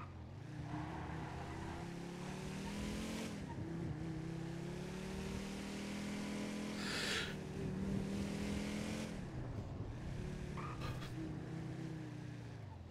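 A car drives in the GTA roleplay game NoPixel, its engine a steady, continuous drone with gentle rises and dips in pitch as it speeds along, heard without talk.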